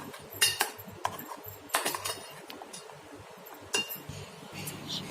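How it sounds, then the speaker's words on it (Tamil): Milk being stirred into an ice cream mixture in a home kitchen, heard as light clinks and taps of a utensil against a bowl, scattered in several quick bursts over a quiet background. "நல்லா மிக்ஸ் பண்ணிக்க போகிறோம்."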